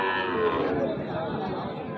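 A cow moos amid the steady murmur of a busy outdoor cattle market selling bulls and calves, the lowing drawn out and fairly close.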